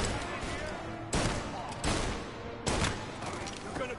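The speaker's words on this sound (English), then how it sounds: "Please, more shooting." Gunfire in Mafia: Definitive Edition: a continuous crackle of shooting with three or four sharper, louder bursts standing out at roughly even intervals, close and busy, with voices faintly present.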